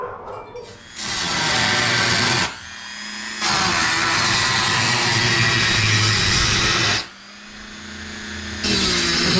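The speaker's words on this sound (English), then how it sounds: "Make sure you take your time with a grinder." Angle grinder cutting during a snorkel install on a 5th generation Toyota 4Runner, loud broadband whine in three long bursts separated by brief pauses, close by with no talk.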